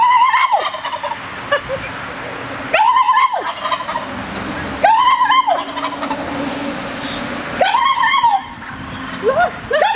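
A turkey gobbles loudly and close by in four separate bursts spread across the span, each a rapid rattling call. Quieter gaps fall between the bursts, and a short fifth call comes at the end.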